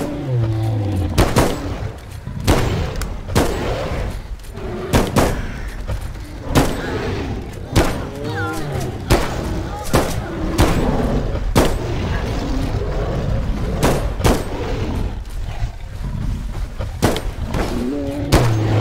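Repeated gunshot-like bangs from flare shots fired at a supposed Bigfoot, sharp loud reports at irregular intervals throughout, with voices talking between them.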